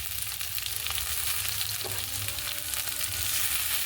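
Garlic, onion, tomato and green chili frying in hot oil in a pan, a loud, continuous close sizzle with faint crackles and no voices.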